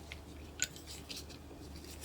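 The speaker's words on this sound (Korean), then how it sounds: "가위로 여기를 자릅니다." A single crisp snip of scissors cutting through thin nail-art wire, quiet and close, followed by a faint hiss of room noise.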